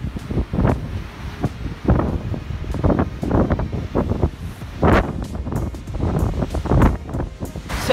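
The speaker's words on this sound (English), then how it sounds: "It's so windy here." Strong winter gusts of wind in Malta batter the microphone in repeated bursts, a rough, blustery roar with no voices.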